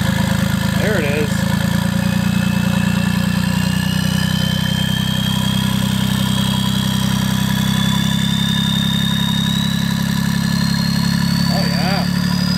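A turbocharged LS V8 with a straight-pipe exhaust idles with a loud, steady, deep rumble that holds for the whole stretch, with a rising turbo whine faintly above it.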